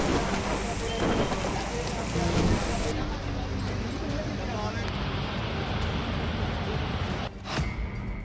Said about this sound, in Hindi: 26 जिलों में बारिश का कहर।